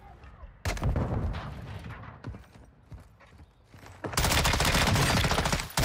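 Gunfire rings out in a Call of Duty DMZ firefight: loud sharp bursts and single shots, with a sustained heavy volley near the end, amid some background game sound.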